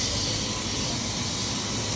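Helicopter flying from Medellin to Guatape, heard from inside the cabin as a loud, constant engine and rotor roar with no breaks and no talk.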